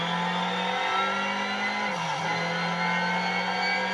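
A front-wheel-drive car engine in a Need for Speed video game drones steadily at high revs, then briefly dips and climbs again, loud and close, with no voices.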